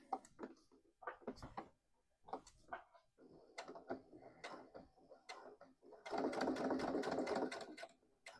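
A sewing machine stitches a Marley wallet at stitch length 2.5 with high upper-thread tension, starting in short separate bursts and clicks, then running in one longer, louder continuous stretch near the end.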